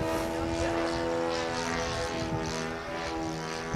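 A radio-controlled model airplane's engine drones steadily overhead on a windy day, a continuous buzzing tone that holds for a few seconds.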